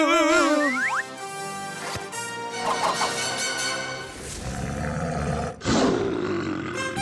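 Cartoon lions roaring in a comic animated scene, several loud, close roars layered with springy boing effects and sliding tones, rising and falling over a few seconds with no talk.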